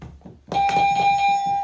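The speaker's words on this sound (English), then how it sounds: "if you get it right, I'm gonna ring the bell like this." A hand bell is rung for a kids' sink-or-float science game, a few bright clangs with a sustained ringing tone after a couple of soft knocks.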